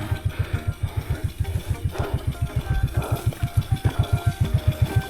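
A motorcycle engine thumps in a steady, rapid pulse close by on a farmers' grass-cutting track on Merapi's slopes at Kalitalang, with the beat tightening slightly as it moves along.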